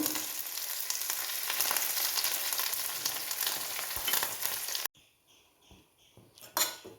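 Curry leaves drop into hot oil in a pan for pineapple thoran and crackle in a loud, steady sizzle for about five seconds. It then cuts to quieter clinks and stirring of the pan.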